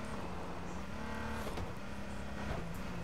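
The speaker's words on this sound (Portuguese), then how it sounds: "Meteu o gás aqui, tomar cuidado pra não capotar esse carro" A car in the video game H1Z1 drives and accelerates with a steady engine hum and tire noise throughout, moderately loud and continuous with no talk.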